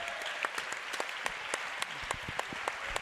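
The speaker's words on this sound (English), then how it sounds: "let's give a big standing round of applause for Mr." A crowd at a high school boys' basketball game gives a standing ovation: steady, moderately distant clapping with sharper individual claps poking through, no talk.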